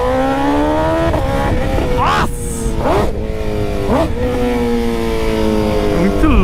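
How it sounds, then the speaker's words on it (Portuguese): A BMW S1000RR sport motorcycle engine revs loudly and close by in repeated sharp rising bursts over a steady idle, with brief talk alongside. "O ronco dessa moto é bagulho doido"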